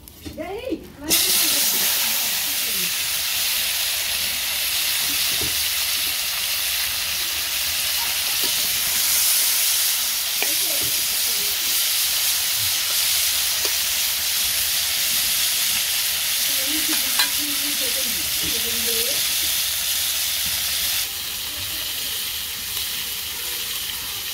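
Pointed gourd (potol) frying in hot oil in a wok in a village kitchen, a loud continuous sizzle lasting throughout, with a voice talking briefly over it.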